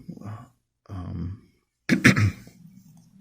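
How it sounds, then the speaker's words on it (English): Two short throaty bursts followed by a louder, harsher cough-like outburst, close and isolated, with brief silences in between. "I had to hit pause because I had to cough."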